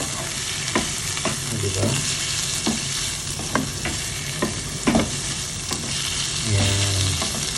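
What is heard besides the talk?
shrimp frying in a pan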